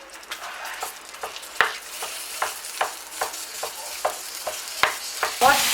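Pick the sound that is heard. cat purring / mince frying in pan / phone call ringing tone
mince frying in pan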